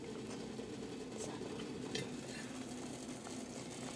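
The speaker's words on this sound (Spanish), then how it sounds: "Ahora las papas que picamos, vamos a revolverlo junto con la zanahoria." Diced potatoes and carrot stirred into guajillo sauce in a pan, with quiet scraping, light utensil clicks and a low continuous sizzle throughout.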